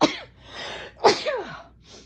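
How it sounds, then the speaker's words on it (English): A single sharp sneeze bursts out close up, followed by a breathy exhale and a short vocal sound as it trails off. "oh, I gotta sneeze"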